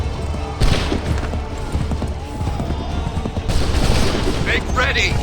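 Musket volleys fire in the Assassin's Creed III video game as two loud, crackling bursts of massed shots ring out amid ongoing battle noise, with voices present.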